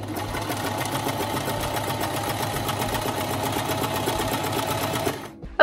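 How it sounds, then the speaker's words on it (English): A sewing machine stitches pleats on blazer fabric, running in a steady, fast mechanical whir close by for about five seconds before stopping abruptly, with no talking. "I sewed all the pleats, all the fabric that is pinched"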